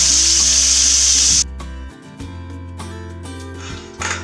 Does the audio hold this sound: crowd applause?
no